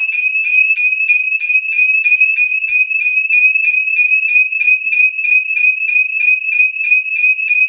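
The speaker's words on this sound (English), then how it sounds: "Okay, there's our alarm, a panic button." A home security system's panic alarm sounds piercing, repeating rapid, regular high-pitched electronic pulses, loud and close, continuously with no pauses or voices.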